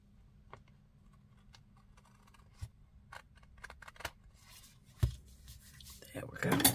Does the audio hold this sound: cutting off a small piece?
yes